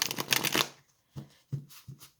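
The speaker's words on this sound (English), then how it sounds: "every time I shuffled the cards and put them out" Tarot cards being shuffled close up, a quick riffling burst followed by several short, soft slaps and taps as the cards are squared and laid down.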